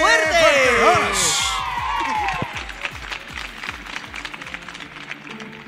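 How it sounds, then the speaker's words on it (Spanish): A circus audience applauds and cheers after an aerial act is introduced, with crowd clapping and shouts under a loud swooping musical fanfare and a rhythmic thumping beat. "¡Aplauso fuerte!"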